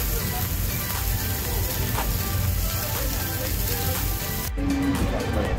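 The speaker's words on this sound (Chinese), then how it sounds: "四面都煎上色，让肉产生梅纳反应。" Beef short rib sears on a hot teppanyaki iron griddle, giving a dense, steady sizzle and crackle that stays loud and close throughout.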